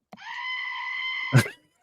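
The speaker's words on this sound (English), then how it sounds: "I love the Screaming Goat because it's so fucking stupid" A Screaming Goat novelty toy lets out a single loud, sustained, goat-like scream about a second long, ending in a short thump, with no talking.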